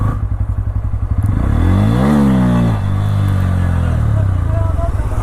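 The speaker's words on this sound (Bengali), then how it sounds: "আমি তো এখান থেকে ভাই এখন হুইলি মারবো, হুইলি মারার চেষ্টা করবো।" A Bajaj Pulsar N200 motorcycle close by, its engine idling with a throbbing pulse, then revving sharply up and down as the rider attempts a wheelie, loud and harsh before settling back to a rumbling idle.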